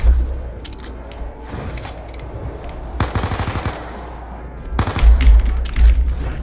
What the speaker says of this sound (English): I also really like the shooting sound of the MP5 in this game